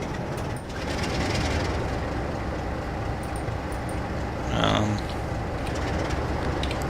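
A locomotive in the Railworks 3 Train Simulator 2012 game idles with a continuous low rumbling drone and faint mechanical clatter, and a brief voice rises over it midway.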